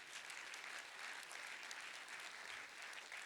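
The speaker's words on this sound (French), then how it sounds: "je pense qu'on peut aussi applaudir très très fort Cinévital" Festival audience at a closing ceremony applauding, a faint, distant, continuous wash of many hands clapping with no voices over it.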